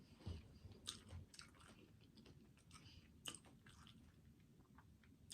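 Quiet close-up chewing of crispy, crunchy food such as Applebee's Parmesan steak and shrimp with salsa, a few soft irregular crunches and bites over a hushed background, with no talking.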